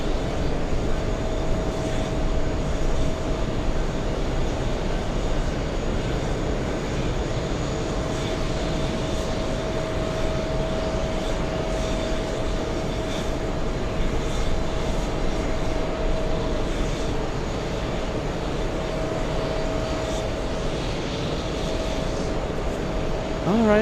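A large American Airlines jet departing JFK for Spain gives a steady, moderately distant engine roar with a faint tonal hum, continuous and unbroken, no voices over it.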